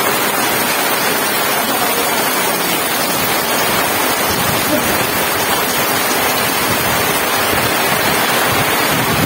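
A dense, steady roar of heavy rain pouring down, loud and continuous throughout with a constant broad wash of noise.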